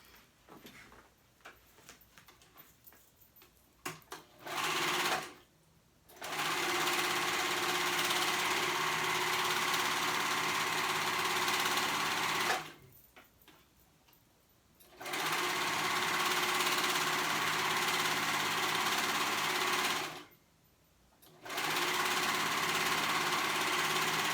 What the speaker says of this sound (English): I'm going to go ahead and sew that crotch area together, the inseam right here